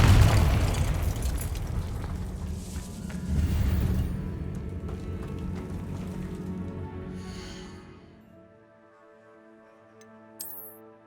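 In the Hogwarts Legacy video game, a Confringo blasting spell explodes with a heavy, rumbling boom that rolls on for several seconds before fading into quieter ambient game music and a faint chime.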